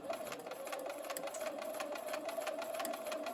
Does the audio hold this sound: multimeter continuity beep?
no